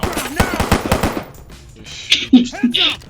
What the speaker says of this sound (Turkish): Taramalı tüfek gibi sıkıyor sana.